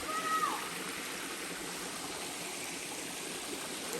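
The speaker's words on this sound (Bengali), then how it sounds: "আমরা মূল ঝর্ণার কাছে চলে এসেছি।" A waterfall flows as a steady, even broadband rush heard from some distance, continuous and fairly faint with no other clear sounds.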